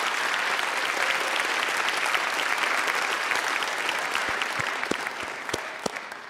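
Sustained applause from a large audience, dense and steady clapping that slowly thins toward the end.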